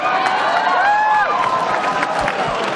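A crowd cheers and shouts in a high school audience, a loud, continuous roar with a few rising whoops standing out, though steady clapping is not distinct beneath the noise.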